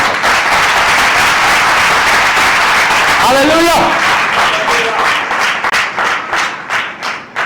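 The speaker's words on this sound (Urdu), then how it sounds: "ایک دفعہ زوردار تالیاں" A church congregation claps loudly in a dense burst of applause that thins into separate claps toward the end, with a voice calling out over it.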